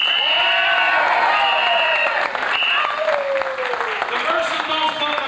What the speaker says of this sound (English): A nice round of applause for Mr.